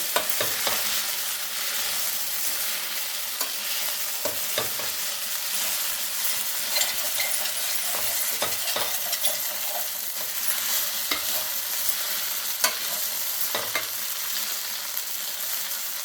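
Sliced okra fries in a pan, a continuous loud sizzle broken by repeated scrapes and clicks of a spoon stirring the pieces, with no talking.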